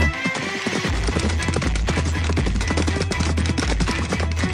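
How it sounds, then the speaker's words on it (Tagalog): Horses gallop in a dense, fast clatter of hooves, many beats overlapping into a continuous drumming rush with a low rumble underneath, loud and close. "sa pagtapat nila kina Noriel, kasabay na rin ang pagtakbo ng mga kabayo nila Atan papasugod sa mga kalaban."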